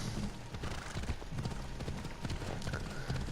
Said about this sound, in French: on y go avec le cheval